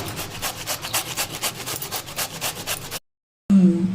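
Bottle gourd is grated on a hand grater with quick, regular rasping strokes, close and fairly loud, followed by a short silence and a brief different kitchen sound.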